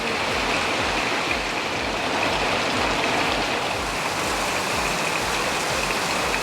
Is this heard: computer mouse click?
no